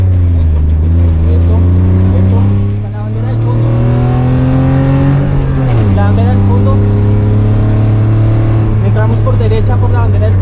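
A small, agile rally car in the Rally FullCars 2.0 racing game, its engine droning loud and steady and rising and falling in pitch as it revs, with a voice talking over it.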